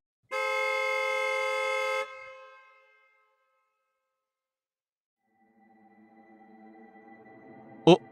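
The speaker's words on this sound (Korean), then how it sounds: "뒤에서 따라오던 차가 경적을 울렸다." A car behind honks its horn in a long, loud blast as part of a Korean horror audio drama, followed by quieter engine-like hum and a sharp knock near the end; no one speaks.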